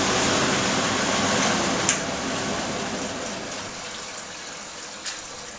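An Indesit L5LF washing machine draws in water, giving a steady, fairly loud rushing hiss that fades slightly over time, with a couple of small knocks and no voices.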